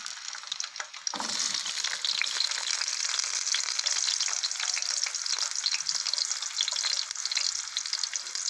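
Sliced medium onion rings hitting hot oil for a daal tadka, bursting into a loud, steady sizzle that continues without a break after a quiet opening second.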